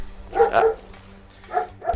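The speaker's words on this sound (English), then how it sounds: "I just don't have a clue what Dougie was barking at" A dog barks during a Fallout 3 play session: a pair of close, sharp barks, a quiet gap, then two more shorter barks, with low background hum underneath.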